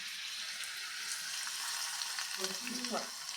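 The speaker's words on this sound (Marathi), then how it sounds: "आता हा जो तडका आपण करून घेतलेला आहे ना तो आपल्या ह्या मिश्रणावर घालून घ्यायचा आहे" Hot tadka is poured onto poha idli batter, giving a soft, steady sizzling hiss with faint crackles that swell slightly toward the end, quiet and close.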